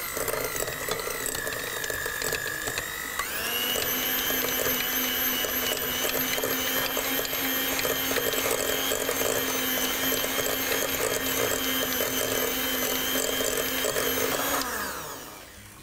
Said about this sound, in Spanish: vamos a colocar en nuestro bowl y con una batidora de mano vamos a